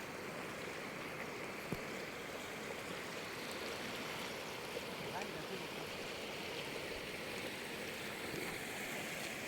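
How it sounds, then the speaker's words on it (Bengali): The Someshwari river at Durgapur, Netrokona, carries spring water past in a continuous broadband rush, a steady close roar of flowing water with a faint tap near the start. "পানির শব্দটা সেই লাগতেছে।"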